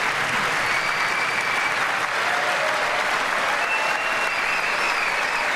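Loud, sustained applause from a large audience at a State of the Union address, with people standing and clapping in a dense, continuous roar that holds steady from start to finish.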